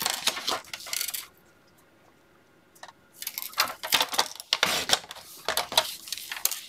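Scissors cutting through a paper card in the middle, heard as close, crisp snips and crunchy paper clicks in bursts, with a quiet pause between the first cuts and a denser run of snipping later.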